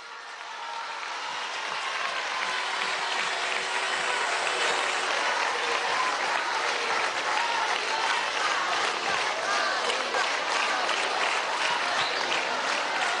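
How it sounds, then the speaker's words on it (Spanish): Crowd applause at a celebration event for socialist feminism, swelling from a quieter start into steady, dense clapping from a large audience that carries on loudly to the end. "Querida María, un aplauso."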